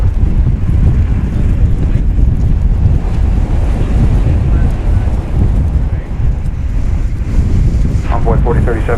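Strong wind buffets an outdoor microphone at a busy airport, a loud continuous low-pitched rumble and roar that swells and dips throughout, with muffled background sound beneath it.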